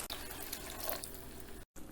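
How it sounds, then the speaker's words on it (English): Water pours steadily into simmering raw papaya curry gravy in a pan, a continuous close hiss and splash with one brief break near the end. "Add in more water"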